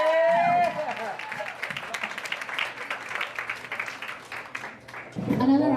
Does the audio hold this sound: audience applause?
yes